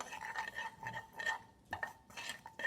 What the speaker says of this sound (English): stir it around with your spoon